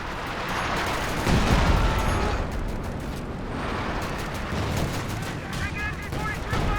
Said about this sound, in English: So far the howitzer just scattering, not quite finding its mark